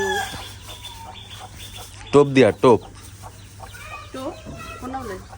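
Hens cluck close by in a few loud, sharp bursts mid-clip, with softer clucks around them, while people talk casually nearby.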